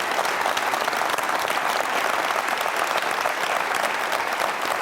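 A studio audience at a televised Q&A panel show applauds the panel, dense even clapping held at a steady level throughout, without talk over it.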